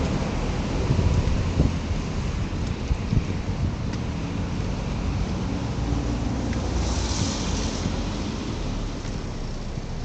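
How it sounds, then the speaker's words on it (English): Strong, gusty wind buffets outdoors in a steady, loud roar that hits the microphone with low rumbling thumps, alone without any speech. "this wind's a little brutal"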